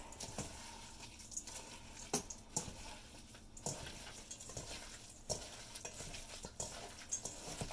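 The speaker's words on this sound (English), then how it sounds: "I'm going to mix this up with my hands" Meatloaf mixture squished and mixed by hand in a bowl, wet squelching and patting in uneven bursts against a hissy background, close up with no talking.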